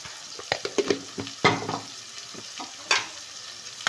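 Onions frying in a pan for an Afghan biryani-style rice dish give a steady close sizzle, broken by a series of sharp scraping stir strokes and a louder clatter near the end, with no talking.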